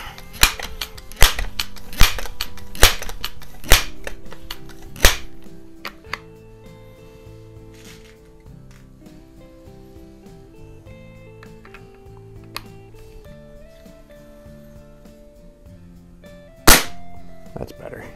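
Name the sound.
Daisy air gun firing across garage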